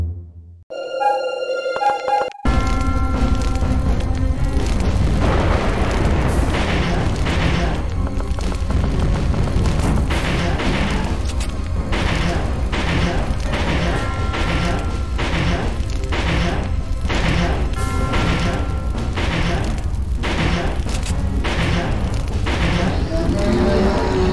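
A landmine blast in the arcade zombie shooter Zombie Revenge comes through as loud, repeated booming explosions and crashes over continuous game music and effects, starting after a short quiet opening.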